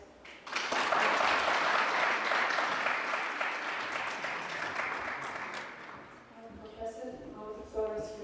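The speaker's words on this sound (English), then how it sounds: "Please join me in welcoming Professor to the stage with a round of applause." Audience applause welcoming a professor to the stage at a public dialogue event in Bhutan, a dense crowd clapping that swells, holds for several seconds, then fades as a voice begins speaking.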